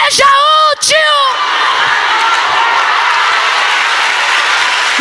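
A church congregation claps and cheers loudly, a dense sustained roar of applause after a brief shout or whoop at the start.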